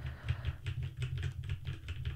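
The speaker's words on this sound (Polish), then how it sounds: "dźwięki klawiatury." A computer keyboard typed in quick, uneven bursts of clicks, picked up by a Behringer XM8500 dynamic microphone, fairly close over a low steady hum.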